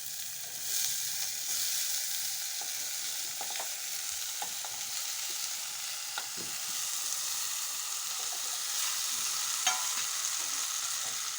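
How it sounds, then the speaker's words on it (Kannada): Steady, close sizzling in a hot pan as pigeon peas are stirred, with light scraping and stirring sounds scattered throughout, no voices. "ಈಗ ಈ ತೊಗರಿ ಕಾಳು ಹಾಕ್ತೀನಿ ನೋಡಿರಿ"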